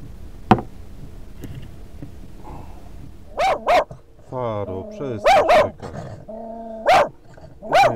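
A dog barks in short sharp bursts, first a single bark and then several close pairs and clusters, loud and near, while a person speaks in between in an outdoor setting.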